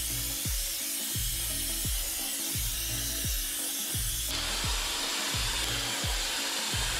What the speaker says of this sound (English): It's like the really high pitched whirring noise.